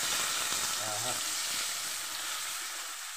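Curry leaves and eggplant pieces sizzling in hot oil, a loud, steady hiss of frying throughout, with a faint voice murmuring briefly under it.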